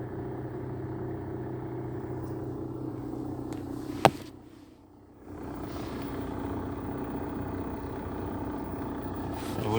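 Rattling gearbox on a Lada Vesta with a robotic transmission and 12,000 km: a steady idle drone with a clatter, a sharp click near the middle, a brief drop in the noise, and then the rattle returns.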